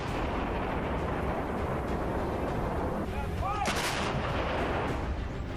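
M777 ultra-light howitzer artillery firing during trials at Pokhran, heard as a dense, continuous roar of blasts and rumble with a sharper burst near the end, loud and sustained.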